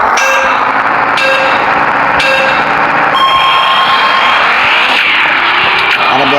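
Engines rev and tires squeal in a video game car race, with loud sustained engine tones that climb in pitch through repeated gear shifts and a chime at the start, continuous and close.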